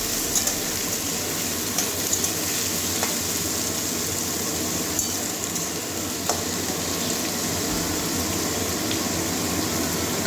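Carrots and potatoes frying in oil in a pan, a continuous dense sizzle with occasional faint clinks, close and steady throughout with no talking.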